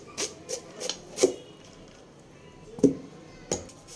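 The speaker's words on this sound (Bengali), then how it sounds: "আমি এখন পেঁপেটা কেটে নেব" A knife cuts through papaya on a board in a home kitchen, six sparse, sharp taps and slices spaced irregularly, close and fairly quiet, with no talk over them.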